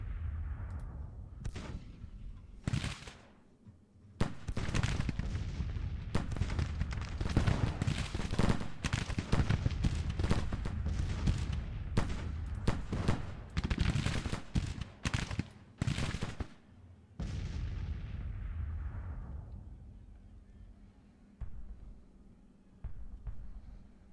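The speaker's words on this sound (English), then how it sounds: "They're still firing at those guys instead of firing at the artillery, honestly." Artillery booms and rolling musket volleys from a Civil War strategy game set in Tennessee, 1863, dense and continuous for most of the span before fading out near the end.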